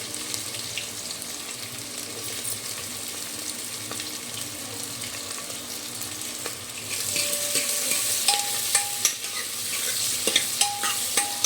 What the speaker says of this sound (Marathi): मसाला आपला चांगला गरम झाल्यावर आता आपण कांदे घालू